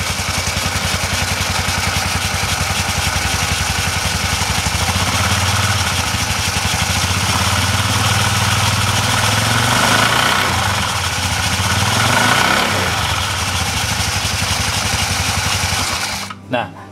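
A motorcycle engine idles steadily during an automatic centrifugal clutch test, a constant close mechanical chatter and hum running almost throughout before cutting off at the end.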